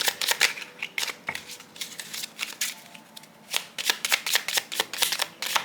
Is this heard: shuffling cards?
yes